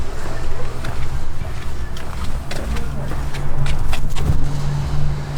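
A 5.3 GMC Sierra Denali truck with a loud, damaged exhaust idling and revving nearby, a deep rumbling drone under a voice.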